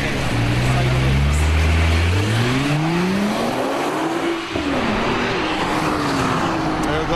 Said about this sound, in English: The sounds, the way the car accelerates